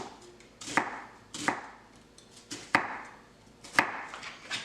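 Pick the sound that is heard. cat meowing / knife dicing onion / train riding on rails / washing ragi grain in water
knife dicing onion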